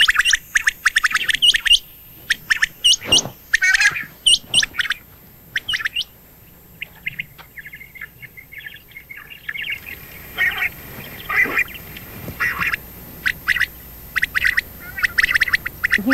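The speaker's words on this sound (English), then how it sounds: "he's playing music for these quail that sounds like quail" Recorded wild quail calls played from a phone outdoors near a bush, repeated sharp chirps and squawks in clusters, fairly close, with a quieter gap midway before the calling resumes.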